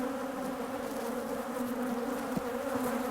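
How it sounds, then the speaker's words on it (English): Dense, steady buzzing of honey bees shaken into a hive box during swarm control, a loud continuous drone with a brief knock partway through. "Because I am actually shaking the bees in, I'm going to need to take some of these frames out"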